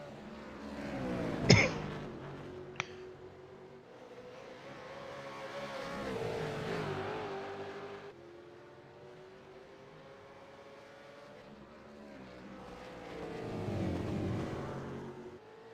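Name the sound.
V8 Supercars racing at Road Atlanta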